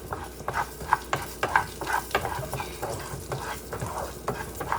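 Rice toasting in oil for arroz con pollo is stirred constantly in a pan, giving a soft, steady sizzle broken by regular scraping strokes of a spoon, close and fairly quiet.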